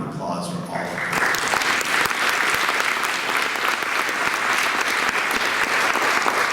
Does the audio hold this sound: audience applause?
yes